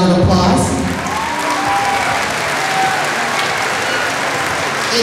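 Audience applause for an elementary school band at a band pyramid concert, a dense steady patter of many hands filling the whole stretch, with faint cheering and voices mixed in.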